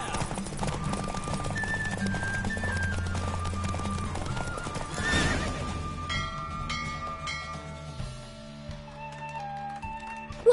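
Horse hooves clip-clop at a gallop through The Witcher 3 video game over steady game music, with a brief whinny midway. The hoofbeats stay close and even throughout.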